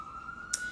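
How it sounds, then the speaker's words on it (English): A siren on a New York City street holds one steady far-off tone, with a short brighter burst near the end. "If you hear the siren, sorry."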